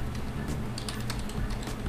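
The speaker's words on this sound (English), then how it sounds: "What we want to type in is we want to go ahead and type in" Fast, irregular typing on a computer keyboard while a text document is set up for an Unturned game server on Windows 7, with dense close key clicks and no talking.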